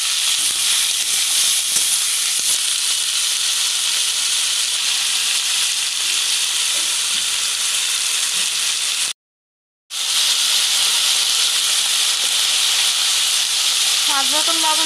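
Spring onion stalks sizzle loudly in hot oil with tangra fish and nigella seeds, a dense, steady frying hiss that drops out briefly, then resumes.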